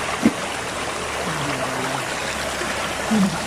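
A mountain creek flows beside a bridge as a steady, close wash of running water, with no talking.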